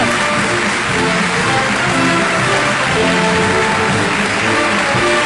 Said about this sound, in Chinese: 再一次响起热情的掌声，祝福他们。